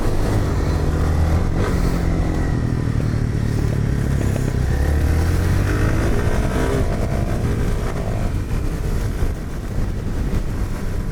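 Suzuki DR-Z supermoto engine with a flat slide carburetor, a loud, continuous close-up drone with rising and falling pitch sweeps as it revs, with no talk.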